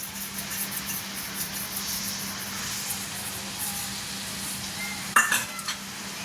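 A spoon stirring paneer butter masala in a pan, a soft steady scraping and gentle bubbling under a low hum, with one sharp clink of metal near the end.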